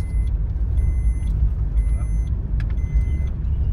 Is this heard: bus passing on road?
yes